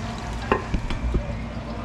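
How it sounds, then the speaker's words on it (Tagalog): A spoon stirs pinakbet vegetables and pork in a pan over a constant low sizzle, with a few distinct scraping knocks close by. "Haluin natin."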